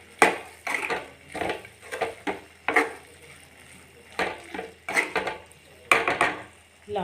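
A spoon mixes roasted peanut powder into a vegetable stir-fry in a pan, with a series of close scraping and knocking strokes in an irregular rhythm, moderately quiet.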